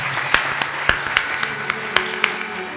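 Sparse audience clapping during a Hindi religious discourse on the slaying of Kans, with about eight distinct sharp claps at a slow, even rhythm, close and fairly loud, no voices over them.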